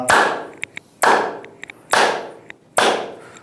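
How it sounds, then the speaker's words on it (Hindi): Four loud, sharp claps of the hands ring out alone at an even pace about a second apart, with faint soft taps between them, as part of simple seated exercises. "ताली बजाना"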